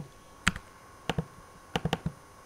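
Several sharp key clicks on a computer keyboard in a quiet room, tapped singly and in a quick cluster of three, with short pauses between them.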